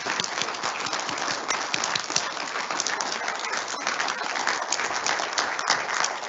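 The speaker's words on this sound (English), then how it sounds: "just give yourself one round of applause, a big one." An audience gives a big round of applause at a talk before Q&A, a dense, continuous patter of clapping hands that stays loud and even from start to finish.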